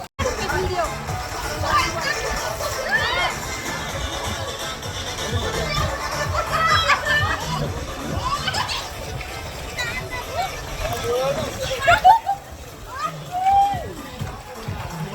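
People splashing and playing in a farmhouse swimming pool, with a steady babble of voices and children's shouts over continuous water splashes, close and lively throughout.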